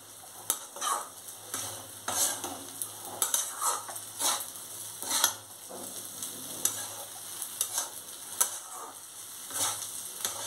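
A spoon scrapes and stirs yellow pulao rice in a pan, with light clinks against the metal and a faint sizzle, in a steady, close, moderately quiet rhythm.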